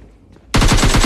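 After a short quiet moment, a gun in the mobile battle-royale game PUBG Lite opens up with a loud, rapid automatic spray, steady close-range bursts of gunfire that run to the end.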